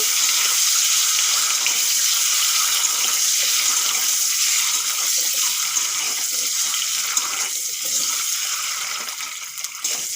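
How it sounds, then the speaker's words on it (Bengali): Steady, loud sizzling hiss of eggs frying in hot oil, continuous and close, with a crackling texture throughout. "ডিমগুলো ভাজা করে নেব"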